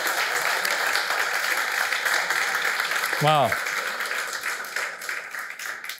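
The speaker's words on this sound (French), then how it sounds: "Oui, on les applaudit." A church congregation applauds musicians, the dense clapping steady and close and carrying throughout, with a speaker's voice over it and a brief sliding vocal exclamation midway.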